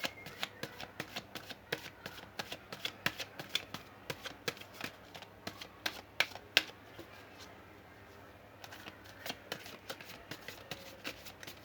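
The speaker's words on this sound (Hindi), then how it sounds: "मैं 8 कार्ड्स लूँगी, 8 कार्ड्स में हम रीडिंग करेंगे।" Tarot cards shuffled and dealt by hand, a steady run of quick crisp riffling flicks and slaps, close and fairly faint, pausing briefly before resuming.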